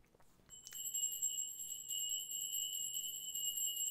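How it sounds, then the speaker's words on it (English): A bell is struck once on a live show and rings on with a bright, sustained metallic tone that lingers steadily to the end. "There it is. The first ring of the bell."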